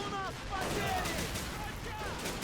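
Gunfire crackles in a Men of War video game battle, with rapid overlapping shots and bursts in dense, continuous clatter, while a voice speaks over the fighting.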